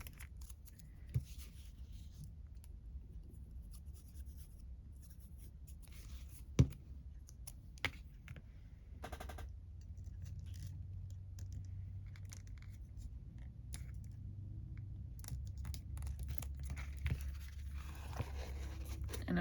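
Paper scrunched by hand while making a junk-journal paper wallet: soft, intermittent crinkles and rustles, close and fairly quiet, with occasional sharper crackles.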